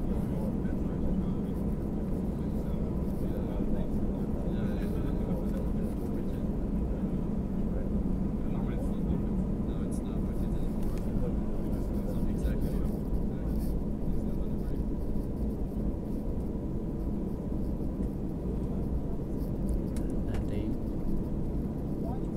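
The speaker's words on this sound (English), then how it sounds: "we are going to the runway for takeoff" Airliner taxiing to the runway for a night takeoff at Zürich, heard as a steady, even low engine rumble and cabin drone, constant in level with no sharp events.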